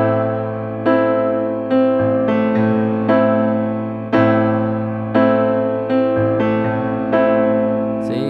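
Slow piano accompaniment to a song, played as full chords struck about once a second and left to ring and fade, close and clear with no voice over it.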